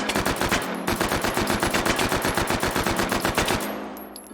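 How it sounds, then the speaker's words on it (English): An MP5 submachine gun in the VR shooter H3VR fires a long, rapid automatic burst of evenly spaced, loud, close shots, with a brief gap near the start. The burst then stops abruptly and a short ringing tail follows. "That was the MP5."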